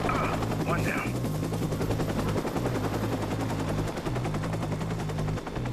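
Rapid gunfire in the video game Watch Dogs rattles on continuously under a dense layer of game music and action noise.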